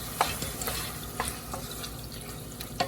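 Tomato and a seasoning cube fry in a pan for spicy fried black-eyed beans, a steady close sizzle broken by a few sharp clicks of a utensil; no voices.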